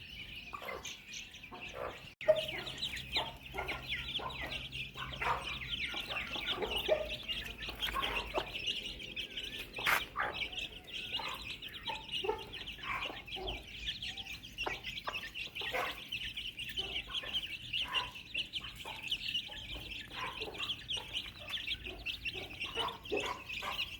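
Hens and roosters cluck and chirp steadily through the clip, with a dense layer of bird calls and no talking.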